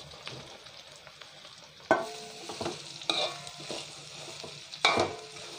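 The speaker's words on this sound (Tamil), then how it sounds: "சரி, இப்போ வந்து நான் சோயாமீட் இதில் சேர்க்குறேன்." Soya meat frying in hot oil in a pan for a Jaffna-style curry, a steady sizzle broken by several sharp scraping stirs of a spoon against the pan, close and with no talking.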